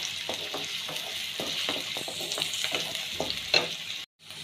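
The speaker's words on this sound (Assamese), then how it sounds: "অকণমান ভাজি লৈ" Chopped onions for Gobi Manchurian fry in a hot pan with a steady sizzle, broken by repeated scraping stirs of a spatula, close and fairly quiet, with a brief silent gap near the end.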